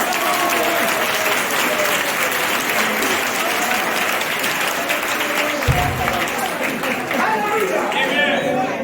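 A church congregation bursts into loud, sustained applause and cheering for a zealous brother at a worship service, the clapping dense and steady throughout with voices mixed into the crowd noise.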